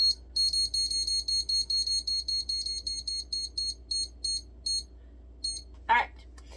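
Kitchen timer beeping in a rapid, steady run of high electronic pulses while a lasagna is being made, then a short burst of other noise near the end.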